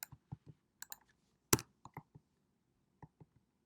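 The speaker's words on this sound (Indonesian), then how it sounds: "Misalkan kita memasukkan text editor. Oke, kita tinggal ketikkan saja mau isi apa." Computer keyboard being typed on while entering text into a web page editor, heard as a dozen or so sparse, close clicks in small irregular clusters, one sharper keystroke standing out, with no talking.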